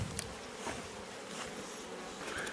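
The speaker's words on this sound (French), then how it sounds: "c'est aussi la première fois pour moi que je suis si proche d'une ruche" Honeybees buzzing around beehives on a farm, a dense steady drone of many insects heard up close and continuous throughout, with occasional individual bees passing nearer.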